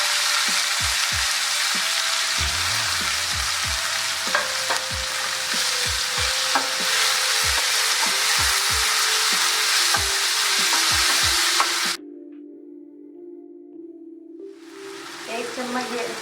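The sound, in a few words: onions, tomatoes and green chillies frying in pan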